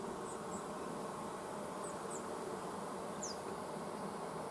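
Bees buzz in a hive as a steady, dense drone, with a few individual insects flitting close by the microphone.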